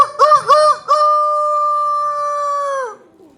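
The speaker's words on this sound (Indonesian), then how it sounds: "Singa dan tikus bangun karena mendengar suara ayam berkokok." A rooster crows in a storyteller's fable performance at a library, opening with a few choppy rising notes and then one long, loud, sustained tone that breaks off sharply near the end, with no talk over it.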